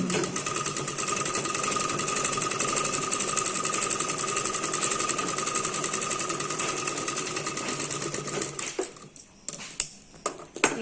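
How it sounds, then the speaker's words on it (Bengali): Sewing machine stitching the puffed sleeve of a blouse, a loud, close, steady rapid mechanical whirring and clatter that runs continuously, then stops and gives way to a few scattered clicks and handling knocks. "সেলাই করে দেব।"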